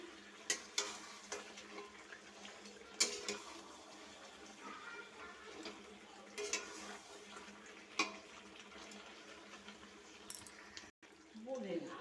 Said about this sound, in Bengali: জলটা এবার শুকিয়ে গেছে এবার মাংসটাকে কষিয়ে নিচ্ছি